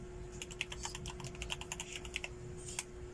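Quick, light clicks of typing on a computer keyboard, a short burst of keystrokes over faint background hum with no talking.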